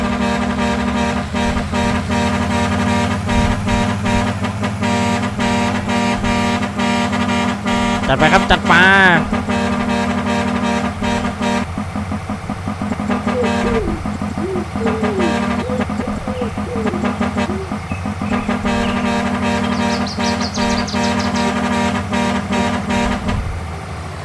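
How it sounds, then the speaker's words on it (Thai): A tractor engine drones steadily in Farming Simulator 19 as it drives up onto a trailer, a loud continuous hum with a brief rise partway through, while someone talks over it. "ผมจะย้ายรถไถขึ้นเทเลอร์แล้วกันนะครับผม"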